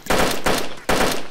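Bursts of automatic gunfire in the survival video game DayZ Standalone, three loud rapid volleys in quick succession, close and sharp with no talk over them.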